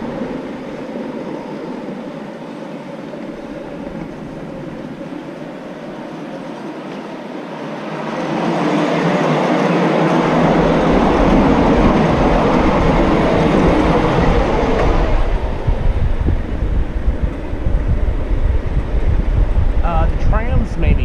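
Live steam miniature locomotive running on a ride-on track, a low rumbling roar that swells midway into loud, close chuffing and rolling wheel noise, with voices talking faintly underneath.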